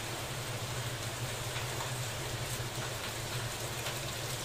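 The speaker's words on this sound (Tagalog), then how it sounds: "Lakas ng ulan. Hindi malaman kung may bagyo o ano." Dense, steady rain hisses evenly throughout, a constant wash of noise with no voices.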